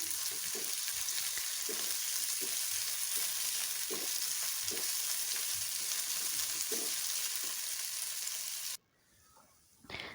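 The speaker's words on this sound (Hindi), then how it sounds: "और इसके बाद अभी इसको फ्राई पैन में हम फ्राई करेंगे।" Marinated food fries in a frying pan with steady broadband sizzling and periodic stirring scrapes for about nine seconds, then the sizzle cuts off abruptly, leaving a quiet room with a faint knock near the end.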